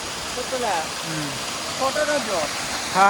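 The constant rushing roar of Athirappilly waterfall fills the background while people talk over it nearby.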